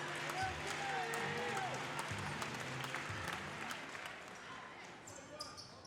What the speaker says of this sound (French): applaudissements pour Océane